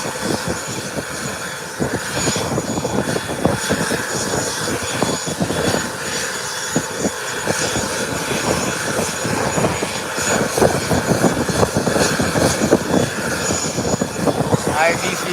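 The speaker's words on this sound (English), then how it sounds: "IDC cargo landing" A cargo aircraft lands at Howard Hamilton International Airport, its engines a steady broad roar that holds for the whole stretch, with people talking over it.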